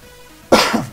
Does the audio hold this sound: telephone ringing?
no